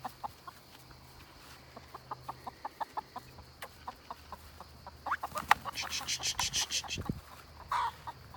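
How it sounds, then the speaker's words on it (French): A hen clucks in a rapid series of short, faint clucks, followed by louder, busier squawking and flapping-like bursts near the end, amid a quiet outdoor background. "La poule est partie"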